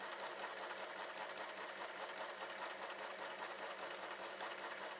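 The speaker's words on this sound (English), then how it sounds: "Now if I turn it slightly and carry on sewing" An overlocker stitches a rolled hem along the edge of a napkin, a steady, loud, continuous mechanical whirr with fine rapid needle chatter running unbroken throughout, with no talking.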